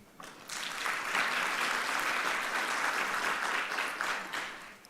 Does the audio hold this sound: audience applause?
yes